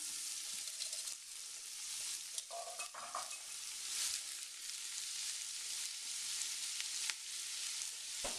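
Chopped garlic and onions fry in a hot pan for a basic Italian red sauce, giving a steady close hiss and sizzle with a few light stirring scrapes.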